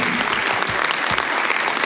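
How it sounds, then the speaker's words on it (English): Audience applause at a UK–Zimbabwe business expo in Birmingham, a dense steady wash of clapping from a large crowd, loud and sustained throughout the short stretch. "Another round of applause for Honorable Moyo"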